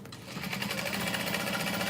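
A sewing machine whirs at a fast, steady stitching pace while basting fabric for a tote bag, close up and continuous, with no talking.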